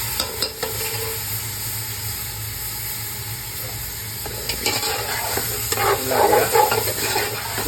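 Fish and tomatoes stirred together in a hot pan, a steady sizzle and hiss of frying with scraping stir strokes that grow busier toward the end.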